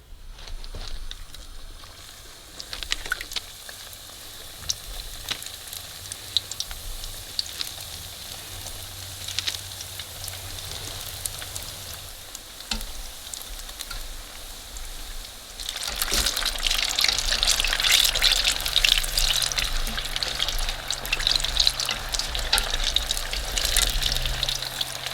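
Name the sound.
egg rolls frying in oil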